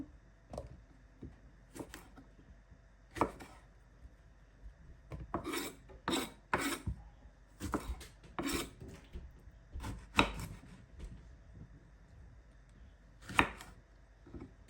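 Knife slicing eggplant on a cutting board in a home kitchen, a series of soft irregular scraping cuts and taps, faint and close, with no talking.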